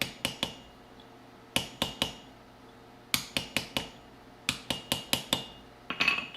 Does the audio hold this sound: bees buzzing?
no